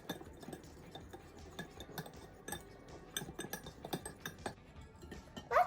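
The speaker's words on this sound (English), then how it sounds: "Now mix well." A utensil scrapes and clinks against a bowl, stirring chocolate cake batter made with powdered sugar, baking powder and baking soda, a steady run of soft close taps and scrapes with no talking.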